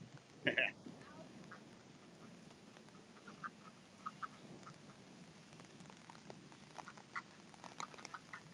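A brief burst of duck quacking near the start, then faint scattered calls over a steady hiss of heavy rain outdoors.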